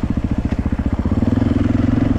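An off-road motorcycle with new rear shock absorber rides close by, its engine pulsing in a steady rapid rhythm that rises and smooths into a sustained loud drone, with no talk.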